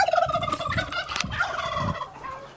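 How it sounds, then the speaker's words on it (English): A turkey gobbles in rapid rattling bursts while scuffling with a rooster in a chicken coop, fairly close and moderately loud, with no talk. "Turkey's fighting with a rooster."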